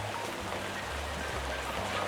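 Rain in the video game Webfishing keeps up a soft, unbroken wash of falling water, level and steady throughout with no talking.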